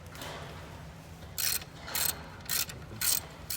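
A ratchet clicks in four quick, close bursts while loosening a bolt during a Kia Stinger GT2 Injen cold air intake install, with a quiet pause between each stroke.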